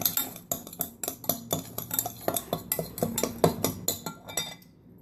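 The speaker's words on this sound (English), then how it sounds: "Mix that up." Garlic and salt get stirred into a marinade for pork tenderloin, a utensil clinking and scraping rhythmically against a bowl, with quick, close, repeated taps that continue for several seconds before stopping abruptly.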